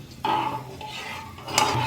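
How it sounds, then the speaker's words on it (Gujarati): A metal ladle scrapes and stirs through a pot of washed khichdi grains, a few soft clinks and swishes close by. "ખીચડી ઓર્યા પછી ચમચા વડે હલાવી નાખવાની"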